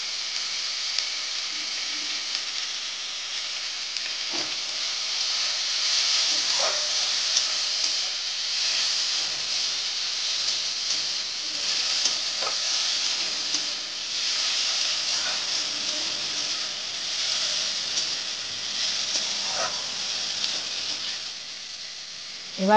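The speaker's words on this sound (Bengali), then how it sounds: "এই টমেটো ওগুলো সব ভাজা হয়ে গেছে" Tomatoes and onions frying in a pan for Bengali chana dal, a steady hissing sizzle that runs throughout with a few faint clinks, no voices.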